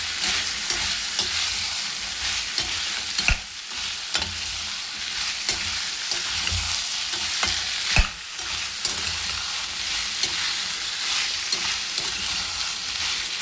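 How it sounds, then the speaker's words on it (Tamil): Ivy gourd sautéing in oil in a pan over a medium flame: a steady, close sizzle with occasional scrapes and clinks of a spatula stirring, no voices. "மீடியம் ஃப்ளேமில் வச்சு நல்லா வதங்கணும்."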